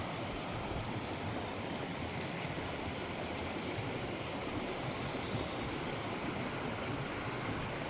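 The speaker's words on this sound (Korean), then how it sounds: "앞에는 이제 신불산 파레스 폭포 쪽에서 흘러내려오는 물이 이제 이래 흘러내려가고" Water from the Sinbulsan waterfall runs down a clear mountain valley stream beside Baengnyeonsa temple, a continuous, even rushing wash of fairly loud flow with no pauses and no voices.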